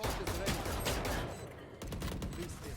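Automatic gunfire in a Valorant match rattles out in dense, close bursts with a brief pause midway, while a player talks over it.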